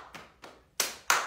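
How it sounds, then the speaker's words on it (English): Four separate hand claps come at an even, unhurried pace, the first two softer and the last two sharper and louder, close by in an otherwise quiet room during a preschool Bible lesson. "remember to clap if you want to"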